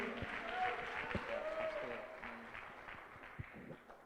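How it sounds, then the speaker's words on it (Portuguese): A church congregation applauds joyfully to welcome a pastor. Clapping fades from moderate to faint over a few seconds, with voices mixed in. "Vamos receber o pastor Altigode com as palmas bem alegres para o Senhor Jesus"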